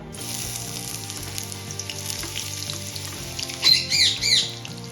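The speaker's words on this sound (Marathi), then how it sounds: "इथे आपल्याला कांदा छान गोल्डन कलर येईपर्यंत परतून घ्यायचा आहे" Chopped onion sizzles and crackles in hot oil, a steady bright frying hiss with a few louder spatters toward the end.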